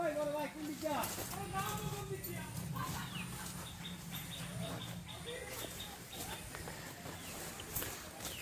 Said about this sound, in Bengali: এবং জঙ্গলের মধ্যে যে পাখিগুলো ওরা খুব ডিস্টার্ব।